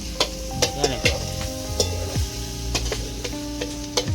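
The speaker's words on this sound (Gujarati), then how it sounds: "આ બાજુ છોકરીએ શાક વઘારી દીધી છે" A potato and cauliflower curry is tempered in a pan in a village kitchen, loud hissing sizzle with repeated clanking stirs against the metal, and faint tonal background sounds underneath.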